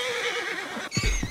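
A horse whinnies with a high, wavering neigh in a Wild West role-play video game, followed by a few low thumps like hooves, close and clear.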